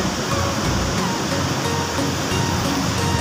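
Nirwana waterfall in North Sumatra pours in a dense, loud, unbroken roar of rushing water, heard up close and steady throughout.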